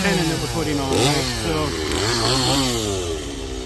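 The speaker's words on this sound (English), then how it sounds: "Dan was rude with this chainsaw" A Makita 7104 chain mortiser cuts into a timber-frame tenon, its loud chain motor running steadily and close, the pitch dipping and rising under load.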